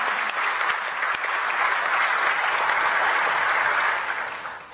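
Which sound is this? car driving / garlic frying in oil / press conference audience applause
press conference audience applause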